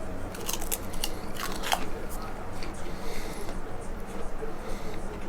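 Crisp, brittle crunching of freeze-dried cucumber chips close to the mic, several sharp crackling bites and chews over a low background hum.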